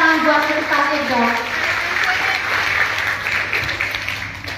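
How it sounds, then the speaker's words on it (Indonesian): Audience applause at a testimonial talk: dense, sustained clapping from a crowd filling the room, with a voice talking over it at the start before the clapping carries on alone and gradually eases. "Tepuk tangan buat kita dong."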